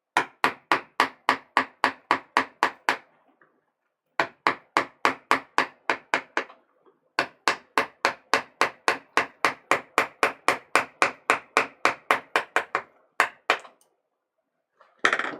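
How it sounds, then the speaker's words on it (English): A hammer taps a chisel carving a woodblock for Japanese printmaking, in light, controlled strokes: steady, evenly spaced knocks in long close bursts separated by brief pauses. "You see, I'm not holding the hammer back here. We don't need that kind of power for this."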